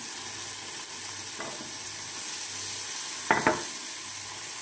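Tomatoes frying in oil in a pan give a steady, quiet sizzle, with a couple of brief soft scrapes or clinks of a utensil partway through, no talk.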